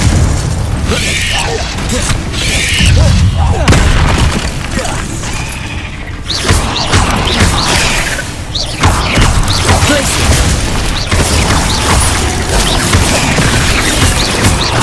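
A Confringo spell explosion in the Hogwarts Legacy video game: loud booms, crashes and shattering bursts in a busy combat mix, with voices heard in places.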